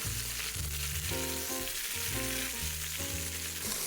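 Ginger, garlic, onions and green onions hiss continuously in a hot pot while being stirred, a close, even sizzle with a steady hum beneath and no talking.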